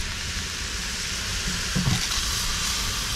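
Hot oil sizzling in a pan while pork offal cooks, a steady, fairly loud hiss with a brief clatter of stirring partway through.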